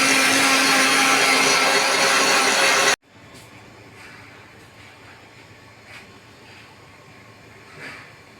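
A grinder blends cream fruit chaat mixture with a loud, steady whirring roar for about three seconds, then cuts off abruptly, leaving faint clicks and quiet room sounds.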